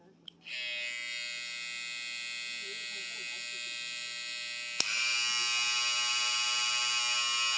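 An AliExpress electric hair trimmer runs with a steady, close, high-pitched motor whine after a click switches it on, then steps up slightly in pitch and loudness partway through.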